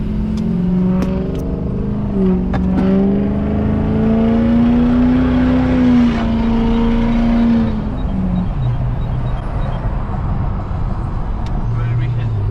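Someone's truck accelerates hard, its engine climbing in pitch and then dropping as it shifts up through second and third, loud and close, with voices talking over it.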